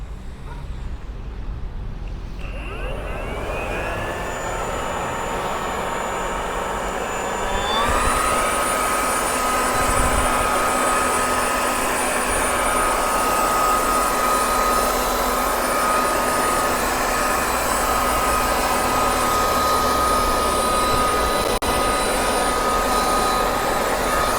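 A Husqvarna 120 iBV garden blower vacuum starts up and climbs to a steady, high-pitched motor whine, running loud and close for a long stretch.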